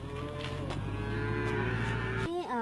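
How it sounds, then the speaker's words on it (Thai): Dairy cows on a farm in Chai Prakan district, Chiang Mai, lowing in a long, drawn-out moo close by, over a steady background hum, ending with a brief rising call. "โอ้เสียงวัวของเราเจียวจ้า"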